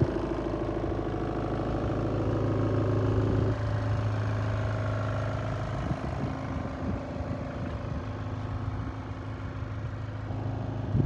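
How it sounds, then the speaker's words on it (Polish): A Kubota diesel engine in a 2015 Dieci Agristar 38.8 telehandler idles steadily up close, a low continuous rumble with a faint hum that shifts slightly partway through. "silnik Kuboty."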